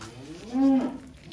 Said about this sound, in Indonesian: ini udah sampai nih yang sapi kedua ini